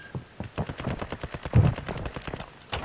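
Rapid bursts of automatic gunfire in the Call of Duty Warzone DMZ video game, a dense string of repeated sharp shots with a louder blast midway and a final report at the end.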